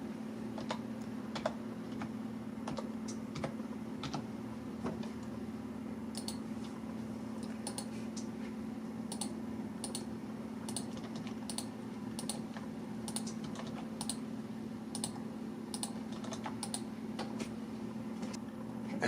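Keys on a computer keyboard are tapped in irregular clusters of quiet clicks while a password is entered. A low steady electrical hum runs underneath, and no one speaks.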